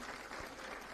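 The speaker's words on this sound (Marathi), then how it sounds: "टाळ्या वाजवा यांच्यासाठी" Applause from an audience at a Gopinath Munde birth-anniversary (jayanti) gathering, honouring guests; a steady, fairly quiet patter of clapping that fills the whole moment without a break.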